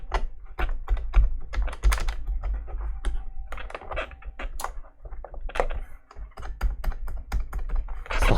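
Plastic keycap being pressed and worked onto a Kinesis Advantage 1 keyboard retrofitted with Cherry ML switches: a dense run of sharp, close clicks and taps with a few heavier knocks, no talking.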